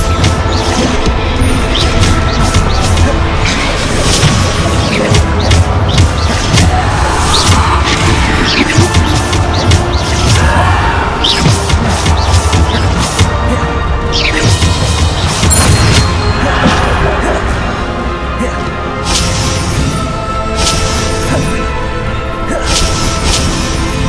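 Bombarda spell explosions in Hogwarts Legacy, repeated booms and crashes within a dense, loud, continuous wash of game combat noise, with no talking.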